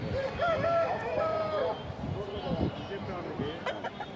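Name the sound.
rooster crowing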